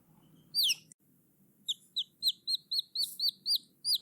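A baby chick cheeps repeatedly, thin high peeps in a quick series after one longer call, clear over a low background hum.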